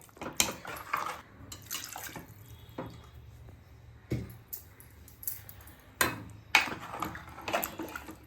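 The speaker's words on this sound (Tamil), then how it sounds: "கொஞ்சம் தண்ணி ஊற்றிக்கலாம்" Water splashes and trickles into a cooking pot of goat leg gravy in uneven bursts, with a few louder sloshes and faint clinks against metal, no talking.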